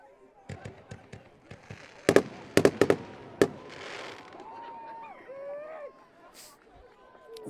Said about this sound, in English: Wondered if we might have fireworks with rain tonight, and we do.